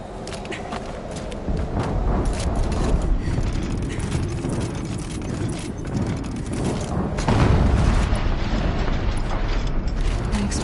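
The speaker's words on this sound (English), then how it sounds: "An explosion." Video game explosion in Horizon Zero Dawn, a dense rumbling blast with heavy low boom and crackling debris that swells again near the end, loud and continuous with game mechanisms beneath.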